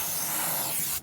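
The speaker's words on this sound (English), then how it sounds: "So we're going to actually use some silicone spray around the edge here." A short, continuous hiss of silicone spray is applied around the rim edge of a tyre, close and steady for about a second before stopping.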